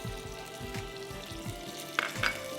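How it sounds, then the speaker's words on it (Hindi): Ginger garlic paste and spices fry steadily in a hot pan, a constant close sizzle with light scraping stir strokes and a couple of brief clinks near the end. "थोड़ा सा अदरक लहसुन का पेस्ट जाएगा, थोड़ा सा इसको भूनिए"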